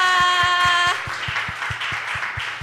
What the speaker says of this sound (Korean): 우리를 이곳으로 다시 불러주신 하나님께 감사의 박수 올려드리겠습니다